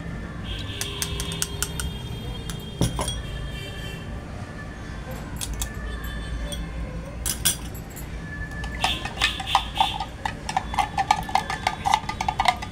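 A spoon clinks against a glass or bowl while lemon juice is stirred into a mango aam panna sorbet, light repeated metallic taps close by amid faint background noise.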